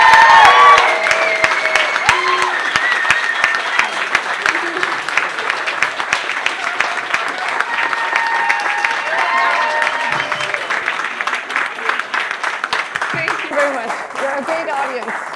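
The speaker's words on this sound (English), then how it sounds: "can we get an absolutely humongous, massive, as big as the universe round of applause for Sofie?" A Science and Beers crowd in Odense gives a long, enthusiastic round of applause for a volunteer, loud dense clapping with scattered cheers that swells at first and then holds steady for about fifteen seconds, with some voices mixed in.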